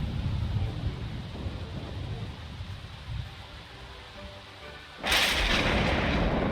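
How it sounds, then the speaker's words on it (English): Lightning striking a Sim in The Sims 4, heard as a sudden loud crackling boom that bursts in near the end over a low rumbling game background. "So the lightning hit him again, just in case he somehow survived."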